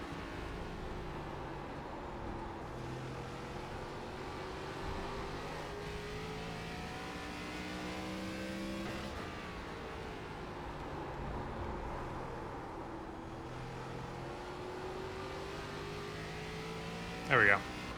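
An iRacing ARCA stock car at Thompson on a hot qualifying lap: a loud, continuous engine drone whose pitch climbs and falls repeatedly through throttle and gear changes.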